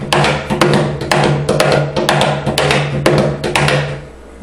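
A cajon is struck with a sharper slapping technique, giving a quick run of crisp, loud close hits with a ringing low body, the rhythm slightly uneven before it falls quiet.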